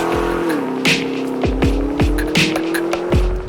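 HSV Clubsport R8 with LSA V8 driving hard, engine note rising and falling through repeated gear changes, each shift marked by a sharp dip and rebound in pitch, close and loud with brief tire noise.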